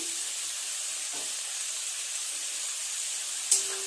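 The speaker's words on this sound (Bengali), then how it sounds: "খুব ভালো করে নেড়ে চেড়ে সমস্ত সবজিগুলো ভালো করে ভেজে নেব।" Vegetables for chowmein stir-frying in a pan, a steady hiss of sizzle and steam running throughout, with a couple of faint clinks from stirring and a sharper scrape near the end.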